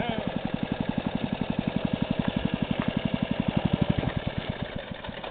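A go-kart engine drives across a frozen lake, its steady rapid firing pulses droning at moderate distance for the whole stretch without any talk.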